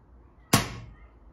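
A single sharp, loud crack of a BSA Ultra CLX air rifle shot in a conservatory, quickly fading out, against a quiet background.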